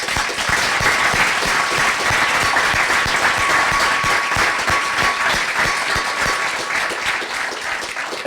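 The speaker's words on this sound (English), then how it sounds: "if you'll join me in giving our guests a round of applause" Loud, sustained audience applause for guests at the close of a panel discussion on Obama's Latin American policy, a dense, even roar of clapping from a sizable crowd throughout.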